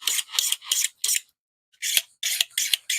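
A knife drawn across a diamond sharpener hone in quick raspy strokes, about four in a row, a brief pause, then four more, close and fairly loud.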